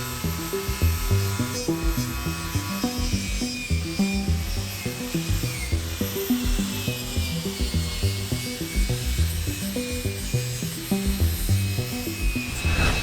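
A power tool cleans up the subframe mounting area of a BMW E46 M3 before reinforcement plates are welded on; a steady high-pitched whir grinds continuously over a busy low rattle and thumping in the workshop, with no talking.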